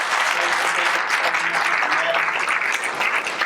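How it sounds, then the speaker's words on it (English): Sustained audience applause at a Stanford Citizen Corps meeting honoring the presenters, a dense, steady wash of many hands clapping at even loudness throughout, with faint voices underneath. "let's have another round of applause for the presenters"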